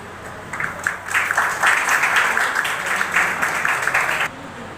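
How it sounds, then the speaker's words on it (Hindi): An audience at a foundation day celebration in a Swami Vivekanand hall in Kohka, Bhilai, breaks into loud, sustained clapping to welcome a guest, swelling over a few seconds and cutting off near the end. "जोरदार तालियों के साथ आप इनका स्वागत करें।"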